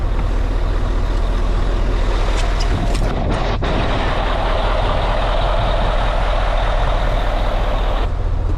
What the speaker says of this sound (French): Tourne comme une horloge ce camion.